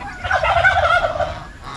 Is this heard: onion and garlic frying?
no